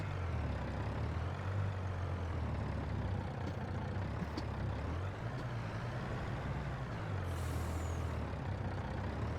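A truck maneuvers a trailer on a farm in a video game: a steady low engine drone runs throughout, with brief hissing bursts and a short high squeal near the end.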